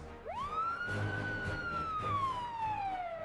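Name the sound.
police siren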